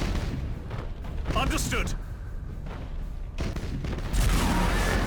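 Spaceship weapons fire in the space battle game Battlefleet Gothic: Armada, with rumbling booms and bursts of cannon fire mixed with game voice lines, ending in a heavier blast.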